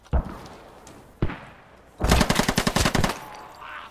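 Gunfire in the video game Squad: two single sharp shots about a second apart, then a rapid automatic burst of roughly a dozen loud rounds, close and punchy, with no talking.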